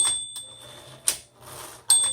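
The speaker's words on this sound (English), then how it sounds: "a Carriage release on either side of the handle is a black lever. Just pull that in." Carriage release lever on a 1970s Smith Corona Coronet Super 12 Coronomatic electric typewriter, giving a few sharp mechanical clacks and a rattling slide of the carriage, close and fairly quiet.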